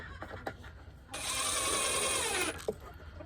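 A power drill bores a pilot hole into a board for a DIY planter box, giving one steady high whine of just over a second, close and fairly loud, with brief clicks and knocks before and after.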